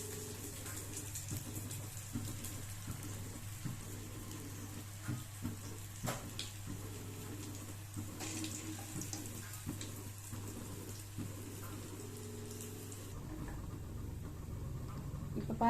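Potato lollipops deep-frying in hot oil on a low simmer, a soft continuous sizzle and bubbling with scattered pops and crackles, faint and steady throughout, no talking.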